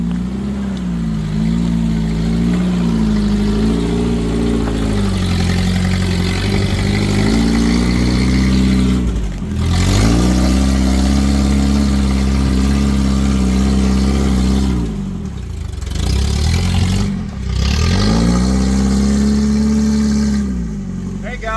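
A first-generation Toyota 4Runner on 37-inch tires climbs a rocky trail at Lions Den, Black Mountain, its engine droning steadily and surging in repeated revs with brief dips, while people talk over it.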